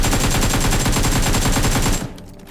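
Rapid automatic gunfire in the PUBG Mobile battle royale game, a loud close burst of evenly spaced shots lasting about two seconds before cutting off abruptly.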